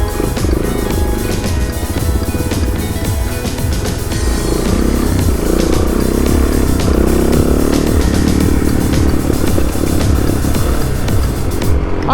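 Suzuki DRZ400 dual-sport motorcycle ridden along Del Sur Ridge, its single-cylinder engine droning loud and close throughout with continuous rumble, shifting revs and rising acceleration, no talking over it.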